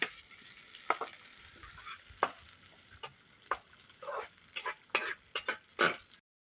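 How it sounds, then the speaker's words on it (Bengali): Loitta shutki, dried Bombay duck, frying in oil outdoors, a soft steady sizzle broken by a series of sharp stirring scrapes and clatters that grow busier toward the end, no talking. "just fry little bit"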